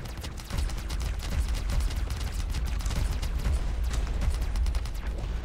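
An auto turret fires in a video game with a rapid, continuous stream of sharp bursts over a low rumble, steady and moderately loud throughout.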